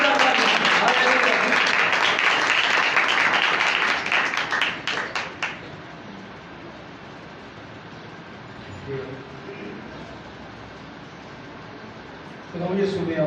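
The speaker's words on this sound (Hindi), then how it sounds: "तो आए हम सब खुदा के खादिम का इस्तकबाल जोरदार तालियों से करें।" A church congregation at a Sunday worship service claps loudly to welcome the preacher, dense applause that thins into scattered claps and fades out after about five seconds, followed by a quiet room.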